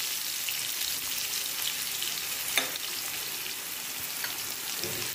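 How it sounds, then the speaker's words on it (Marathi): Chopped onion sizzles in a pan for a Maharashtrian onion-tomato zunka. The frying is a close, steady hiss with a faint clink partway through. "थोडासा लालसर होऊ देऊया आपण या ठिकाणी कांदा"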